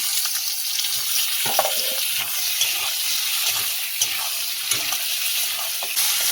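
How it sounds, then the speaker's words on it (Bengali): Potatoes and tomatoes fry with lightly browned onions in a hot pan, giving a steady close sizzle with occasional soft stirring knocks throughout. "এবার আলু আর টমেটোগুলো দিয়ে আবার ভেজে নেব"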